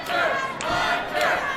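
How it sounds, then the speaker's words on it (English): Kids in the crowd at a Capital City Wrestling match yell and cheer, a dense, loud wall of high-pitched shouting voices surging continuously with a few sharper peaks. "there are kids everywhere around me cheering for Hunter Sampson"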